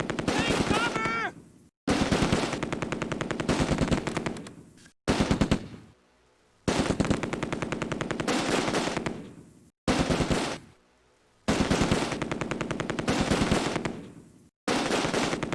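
Troops in the video game Close Combat: A Bridge Too Far fire long rattling machine-gun bursts, loud and close, separated by short silent gaps.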